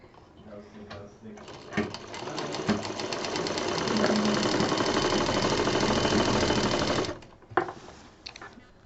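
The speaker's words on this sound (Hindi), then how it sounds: "दूसरे साइड का भी सिल देते हैं" A sewing machine stitches patchwork bed cover pieces together, running steadily for about five seconds in a dense mechanical whir, bracketed by handling clicks and light rustling before and after.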